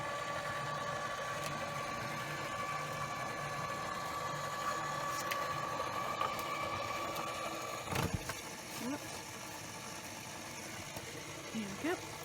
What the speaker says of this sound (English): any die cutting machine will work